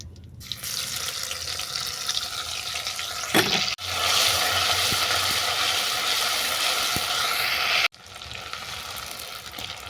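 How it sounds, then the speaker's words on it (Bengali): Ground spice paste fries in hot oil with bay leaf and asafoetida, giving a steady close sizzle broken by two brief dips, with watery splashing mixed in and no voices. "ফোড়ন থেকে যতক্ষণ না তেল ছাড়ছি আমি ততক্ষণ এটাকে ভেজে নেব"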